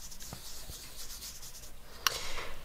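Colored pencil blending rubbed across smooth paper, a soft continuous scratchy rubbing with a few faint taps and a sharper click near the end, close and quiet.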